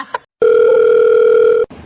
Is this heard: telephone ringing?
yes